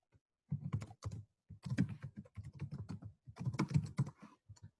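Someone types on a computer keyboard, close and clear, in uneven bursts of rapid key clicks separated by short pauses.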